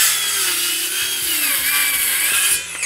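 A new circular saw rips steadily through a treated 2x8 wood board, a loud, continuous high whine and grinding buzz heard up close for the full length, with no speech.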